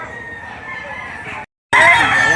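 A rooster at a poultry sale in Lipa City, Batangas crows loud and close, first with a sustained call, then a brief silence, then a second, louder crow.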